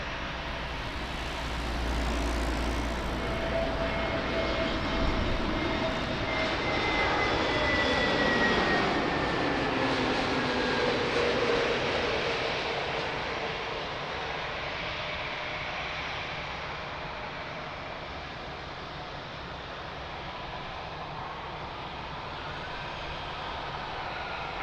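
A fixed-wing airliner on approach to Lisbon Airport passes with a loud, sustained jet engine roar that swells and then slowly fades, with no voices.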